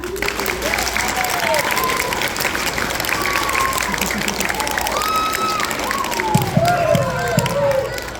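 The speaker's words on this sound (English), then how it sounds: "One big clap." A school year-end assembly crowd claps in a steady, dense burst of applause that runs throughout, with a few voices talking over it.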